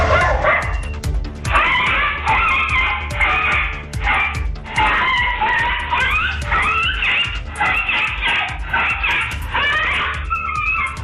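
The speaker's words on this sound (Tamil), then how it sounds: "வீட்டின் வாசலில் கட்டப்பட்டிருந்த நாய் ஓயாமல் குரைத்துக் கொண்டே இருந்தது" A dog tied at a house entrance in Pandalur, Nilgiris district, barks nonstop and ferociously at a leopard that has entered the home, with loud, rapid, high-pitched barks and yelps close by.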